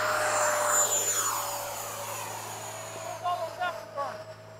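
An FMS 80mm Hawk RC jet takes off, its turbine-like whine loud at first, then fading steadily as it climbs away, with voices briefly talking near the end.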